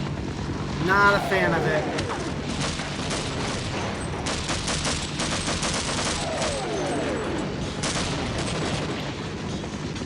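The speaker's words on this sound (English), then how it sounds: "Oh yeah, the freaking air raid bombs." Air raid bombs in a video game land as a series of heavy explosions and crackling blasts with a sweeping whine, rumbling through the whole stretch while someone talks briefly over them.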